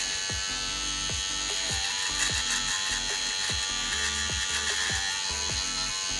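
Electric hair clippers buzz steadily and close up while cutting the first bald line of a fade around the head, a continuous whine with faint shifts as the blades move, and no talking.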